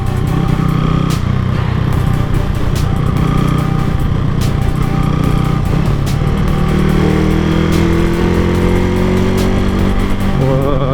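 Motorcycle engine running while riding on a long run-in trip with the stock sprocket, a steady close drone with the pitch climbing as the throttle is opened toward the end.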